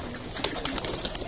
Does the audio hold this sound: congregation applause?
no